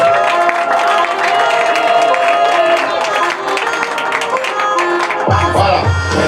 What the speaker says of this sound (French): Bonne acclamation.